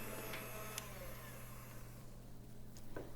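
An electric hand mixer hums steadily while whisking warm pudding for a Turkish palace pudding, a faint, continuous motor whine with a few light clicks and knocks.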